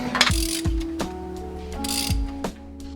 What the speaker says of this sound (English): what I'm doing right now when I do that is I'm tightening the back bolt to the front bolt